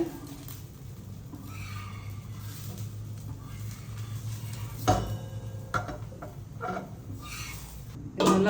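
Spices frying in hot oil while tempering a Tamil-style butter bean gravy, a steady soft sizzle with occasional stirring clinks and scrapes from the pan, fairly faint and continuous with no talking.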